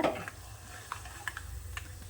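A soft, steady sizzle of peanuts and spices tempering in oil for tamarind rice, with a few light clicks of a spoon against the pan, fairly quiet and close.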